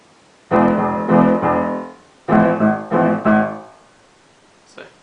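Piano with both hands playing a passage from a song, heard as two phrases of three full chords each, with a short gap between them and a faint note at the end.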